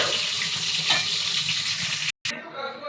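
Cabbage simmering with potatoes in a pan on a gas stove, a steady close bubbling sizzle with soft stirring, briefly cut off near the end before resuming more quietly.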